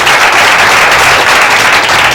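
A large audience gives sustained, dense applause welcoming partners at a company speech, loud and close throughout with no pauses.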